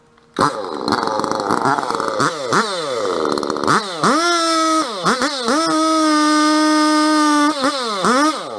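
A chainsaw felling and bucking trees, its engine revving up and down in repeated bursts before settling into a sustained, loud, high whine as the chain cuts, close by and with no speech.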